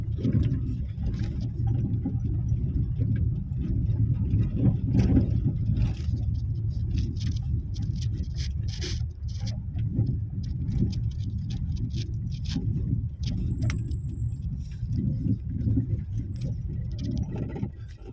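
A car engine running while the car is driven, a steady low rumble with light road noise and occasional rattles and clicks throughout, with no talking.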